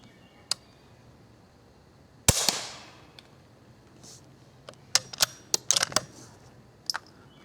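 Rifle fired with CCI Quiet-22 segmented hollow point .22 ammunition outdoors: one sharp, loud crack with a brief ringing decay, followed by a cluster of lighter, snappy cracks and clicks spaced close together, with no talking.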